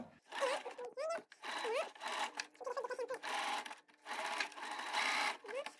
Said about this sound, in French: Je le glisse sous ma machine en prenant bien les 2 épaisseurs.